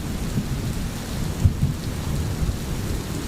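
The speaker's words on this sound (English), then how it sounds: "Raindrops were rhythmically tapping on the window." Rain falls steadily with low rolling thunder, a continuous hiss of raindrops against a window under deep rumbles, with no talk.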